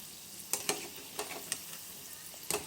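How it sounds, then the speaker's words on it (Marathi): Gulab jamun fry in oil over a medium gas flame, a soft steady sizzle broken by a few sharp crackles and pops. "असे मस्त फ्राय करून घ्यायचे गुलाबजामुन."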